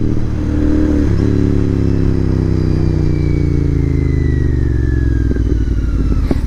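A fully modified Royal Enfield GT650 motorcycle engine revving loudly up close, its deep droning exhaust note falling gradually, with sharp crackles near the end.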